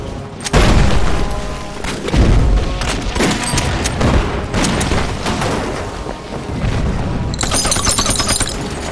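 Artillery fire and explosions in the 2015 war film The Hundred Regiments Offensive: loud, heavy booms and bursts of gunfire crowd together with little pause, ending in a sharp crackling blast.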